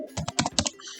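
Quick bursts of typing on a computer keyboard while logging into a Mikrotik router over SSH, about six close, crisp keystroke clusters in a little over a second, with no talk.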